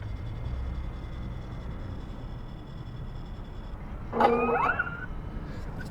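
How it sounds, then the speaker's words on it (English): A Tesla playing a custom Iron Man lock sound, a brief mechanical whirring chime near the end after quiet cabin hum, fairly faint and heard alone. "You heard the Iron Man sound."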